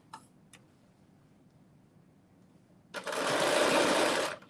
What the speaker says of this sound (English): we're sewing that at 1/2 of an inch